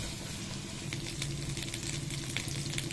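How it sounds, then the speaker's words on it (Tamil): Ginger and garlic sauté in ghee in a pan for ghee rice, a steady close sizzle and crackle with faint stirring scrapes running throughout, no voices. "இஞ்சி பூண்டோடைய பச்சை வாசம் போகிற அளவுக்கு வதக்கணும்."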